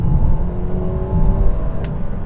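A turbocharged 2019 Mercedes-Benz A-Class hatchback engine revs steadily up close, a continuous droning whir with a smooth, fairly bland tone and no talking over it.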